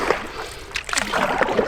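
A paddle dips and strokes through water beside a canoe, making short nearby splashes and sloshes in a loose rhythm over a brief moment.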